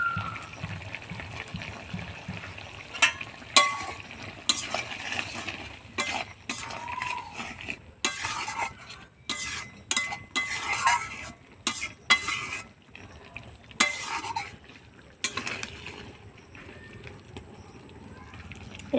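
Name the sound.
prawn curry gravy simmering and being stirred in a pan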